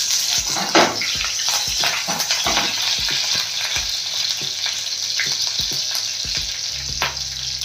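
Hot oil sizzles and crackles loudly in a pan as a home-grown herb stalk is dropped in, with a steady frying hiss and scattered spoon knocks and stirring, close by, no voices.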